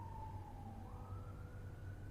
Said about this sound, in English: Every time I make a video, there's always an ambulance.